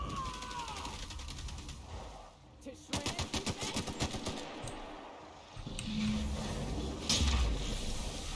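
Bursts of rapid automatic gunfire from a sci-fi shooter battle in The Outer Worlds, a dense volley of repeated shots in the middle, then scattered blasts, over game mechanisms and combat noise.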